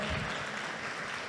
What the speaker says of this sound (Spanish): fuerte el aplauso a las visitas